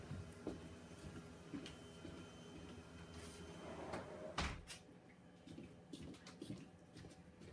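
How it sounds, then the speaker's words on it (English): A sliding patio door slides and thuds shut with a single solid knock midway, amid faint rattling and quiet household background. "I'm just going to close my patio door."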